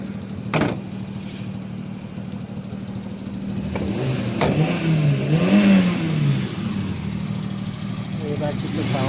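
A Maruti Omni van's engine, freshly serviced with a cleaned carburettor and three new spark plugs, revs steadily at close range after a couple of sharp knocks, rising to a louder swell midway and settling back to a running hum.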